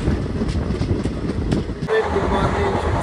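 A passenger train runs on the rails near Pandharpur in the morning, a continuous close rumble and rattle with faint clickety-clack, heard from inside the moving carriage.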